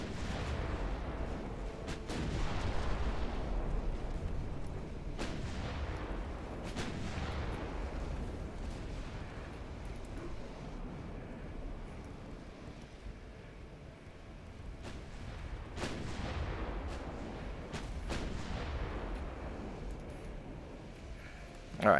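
Naval gunfire in the warship game Ultimate Admiral Dreadnoughts: repeated distant booming salvos at irregular intervals over a low rumbling background, fairly faint, with no talk during the firing.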